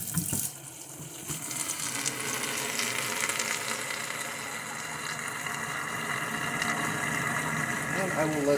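Tap water runs steadily into plastic bottles at a sink as they are filled one after another, a continuous close splashing hiss with brief gurgles and a shift in pitch near the end as one fills up.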